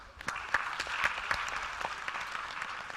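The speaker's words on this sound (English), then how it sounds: "Please give him a big round of applause." An audience at an IIT Guwahati youth meeting applauds with a fairly soft, even patter of many hands and a few sharper claps, all at a moderate distance.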